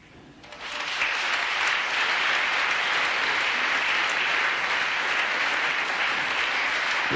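Applause from an adjoining snooker match at the 1973 Norwich Open swells up quickly after a quiet start and holds as steady, dense clapping, heard from nearby rather than right at hand.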